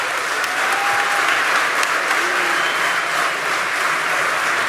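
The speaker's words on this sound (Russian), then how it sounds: "Уважаемые мужчины, я прошу, поаплодируйте, пожалуйста, только мужчины." Men in a live concert audience clap together in a steady, dense wash of applause filling the hall, with no voices over it.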